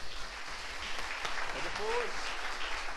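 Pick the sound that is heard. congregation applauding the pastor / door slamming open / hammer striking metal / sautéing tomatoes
congregation applauding the pastor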